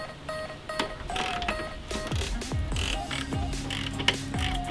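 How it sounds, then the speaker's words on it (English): Repeated clicking of a 10mm ratchet and socket backing out intake bolts on an EK-chassis Honda Civic during an AEM intake install, with short bursts of ratcheting and light metallic knocks close by in a quiet garage. "remove these two bolts right here with our 10mm ratchet and"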